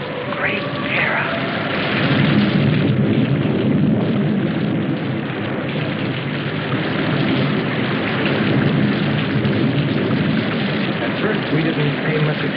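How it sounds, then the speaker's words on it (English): Heavy rain pours in a dense, steady hiss with rolling thunder rumbling underneath, loud and continuous throughout. "We didn't pay much attention to the rain, though it seemed heavier than any rain we'd ever seen"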